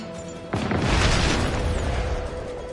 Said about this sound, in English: It's a wild ass explosion.